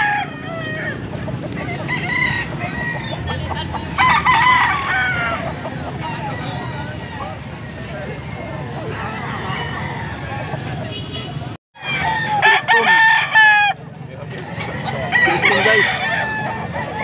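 Gamefowl roosters crow repeatedly at a busy outdoor sale, loud crows rising over a steady babble of buyers and sellers talking, with one brief dropout partway through.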